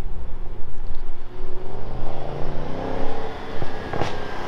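A 750-horsepower Audi RS6 revs and pulls hard in pulsing surges, loud and close, rising in pitch as it accelerates, with a brief sharp clunk near the end.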